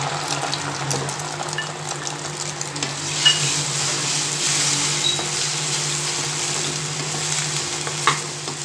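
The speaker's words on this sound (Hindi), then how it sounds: "तेल हमारा गर्म हो गया, अब इसमें हम अंडा डालेंगे।" Egg frying in hot oil in a pan for egg bhurji, a steady loud sizzle and crackle that holds throughout with a couple of sharper pops.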